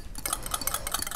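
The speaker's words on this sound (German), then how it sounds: "Ich verrühre sie noch mit meinem kleinen Rührbesen hier" A small whisk stirs dissolved gelatine in a little bowl, giving quick light metallic clicks and taps in a fast, irregular rhythm, close and alone.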